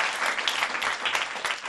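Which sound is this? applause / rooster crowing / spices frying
applause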